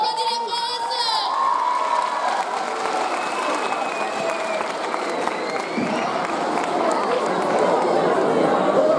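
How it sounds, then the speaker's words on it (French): A school show audience cheers, shouts and claps loudly, children's voices high and excited over dense continuous applause. "On applaudit les frères et sœurs."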